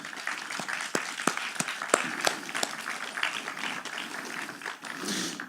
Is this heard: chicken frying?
no